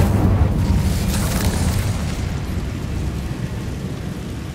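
A fire spell cast in Hogwarts Legacy bursts out as a loud, close whoosh-boom of flame that swells in the first second and then rolls on as a steady roar, with no talking.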